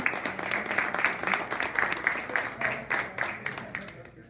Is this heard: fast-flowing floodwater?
no